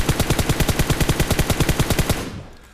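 Rapid automatic fire from a scoped rifle in PUBG Mobile, about two dozen loud evenly spaced shots in one continuous burst that stops abruptly and leaves a short fading tail.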